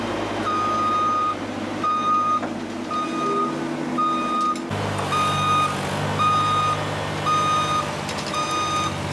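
A skid steer loading a trailer sounds steady, evenly spaced reversing beeps over a continuous diesel engine rumble, loud and nearby, with no talk.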